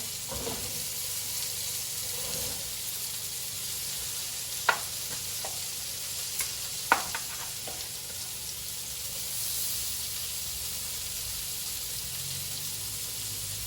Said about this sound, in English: it's really important to get a good sear on the lamb